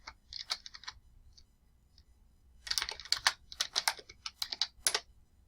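Typing on a computer keyboard: a few scattered key taps, a pause, then a denser run of quick, close clicking keystrokes in an uneven rhythm with no voice.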